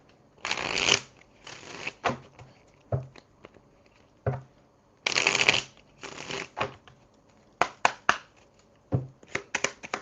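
Oracle cards being shuffled for a tarot reading, giving several bursts of riffling and crisp card flicks with short pauses between, close and fairly quiet with no talking.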